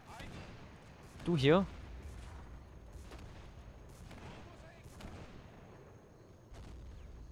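Shots of gunfire ring out in the WWII strategy game Men of War: Assault Squad 2 as a string of sharp reports and booms over a low battlefield rumble, with someone speaking German briefly.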